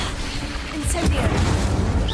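Incendio fire spell bursting in Hogwarts Legacy, a loud whooshing boom near the one-second mark followed by roaring, crackling fire noise, with a voice speaking over it.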